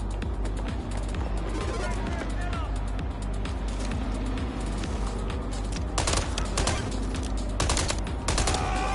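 Rapid video-game gunfire rattles in bursts from a shooter game, growing denser and louder in the second half, with a voice talking over the shots.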